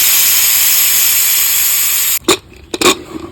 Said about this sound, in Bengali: এখন এই মশলা টশলা দিয়ে একটু সম্বরা দিয়ে দেবো